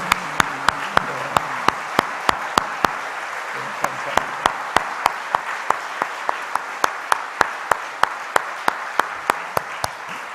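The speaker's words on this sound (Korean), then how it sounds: "이분들을 위해서 우리 한번 축복과 격려의 박수 한번 드릴까요?" Church congregation at a Korean prayer meeting clapping in blessing and encouragement, sharp claps landing in an even, steady unison beat over a soft room background.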